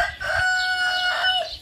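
A farm rooster crows once close by, a loud drawn-out cock-a-doodle-doo with a rising then falling tail, heard alone.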